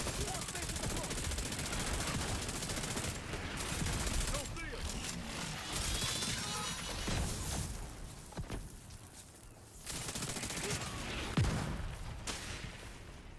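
Gunfire in The Division 2, with bursts of automatic fire and scattered shots crackling through a busy mix of game effects over most of the stretch, loud and close.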